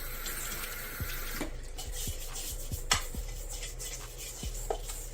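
Running water splashes in a sink as an item is washed, with close clatters and knocks of the object against the basin over steady flow, no talk.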